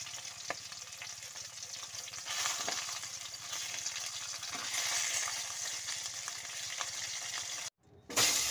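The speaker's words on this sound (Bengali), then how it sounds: "এখন শোল মাছগুলো আমার লাল লাল করে ভাজা হয়ে গেছে" Snakehead fish pieces sizzle steadily in hot oil, a continuous bright crackle with occasional soft stirring clicks, briefly cutting out near the end before resuming.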